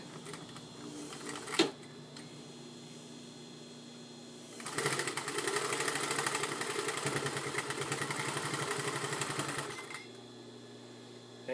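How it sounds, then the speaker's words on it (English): A home sewing machine runs steadily for several seconds, a fast rhythmic mechanical whir, starting and stopping cleanly with quiet room noise before and after. "Your home sewing machine may not like the thickness, so you might have to go a little slower."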